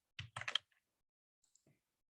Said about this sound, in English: To flip the arrows to the inside, I can hit the A key on my keyboard.